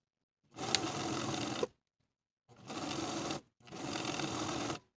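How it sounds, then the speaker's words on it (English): Sewing machine stitching along the original line of an elastic waist casing on women's pants, running in three steady bursts of about a second each with short pauses between, close and clear. "sew close to the gap in your stitches along the original stitching line"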